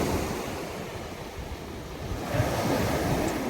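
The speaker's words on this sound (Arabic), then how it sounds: "والواحد يشوف غير هاد المواج" Sea waves wash steadily onto the shore under a cold wind, a continuous broad surf hiss with a gentle swell in loudness near the end, no voices present.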